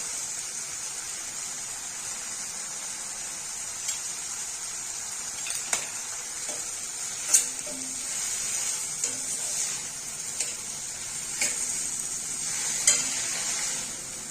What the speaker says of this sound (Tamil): இப்ப இது வதங்கட்டும் சும்மா ரெண்டு மூணு பிறகு பிறட்டினா போதும் முருங்கைக்கீரை சத்த நேரத்துல வதங்கிரும்